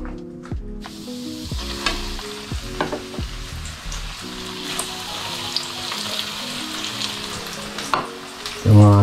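Chicken leg pieces frying in hot oil, a constant bright crackling sizzle with bursts of spattering, alongside a humming tone and a loud clatter near the end, close up and without talk.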